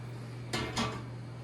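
A saucepan of milk set down on a stove top gives two quick metallic clunks close by, against a steady low background hum.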